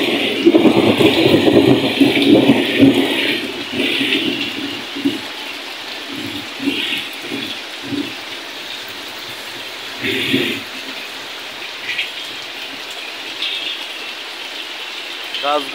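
Heavy rain pours in a steady broadband hiss, loudest at the start and easing later. Someone speaks in bursts over the downpour.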